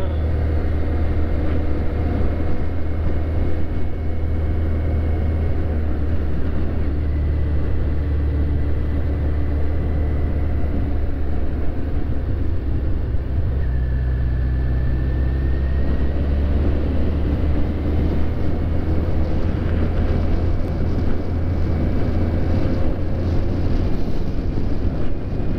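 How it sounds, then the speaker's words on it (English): Suzuki GSX1400 motorcycle engine pulling in third gear on a road ride, a steady low drone blended with heavy wind rush at the microphone, constant and loud for the whole stretch. "It sounds real cool in third this bike."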